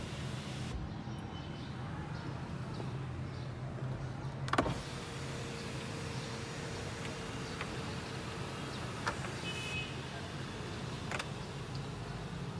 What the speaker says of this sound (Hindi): अभी सनरूफ खोल के चेक करते हैं क्या कंडीशन है।